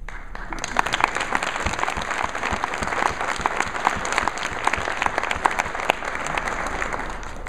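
Sustained round of applause from a crowd at a tourism marketing awards event, many hands clapping steadily for several seconds, even and moderately distant with a low room murmur underneath.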